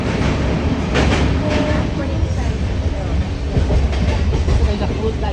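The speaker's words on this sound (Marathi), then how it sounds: "आणि आता ट्रेन चालली एकदम" Goa Sampark Kranti express train running at speed past Bhiwandi Road station, heard from inside a coach: a loud, steady rumble and roar with faint rhythmic clatter of wheels throughout.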